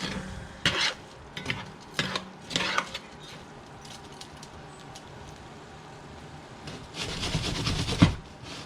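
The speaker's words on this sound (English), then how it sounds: "And just let this deglaze just for a few minutes." A pan deglazing while jerk chicken and shrimp risotto cooks: a low sizzle under intermittent scraping and stirring strokes from a utensil, in bursts early and again near the end, no talking.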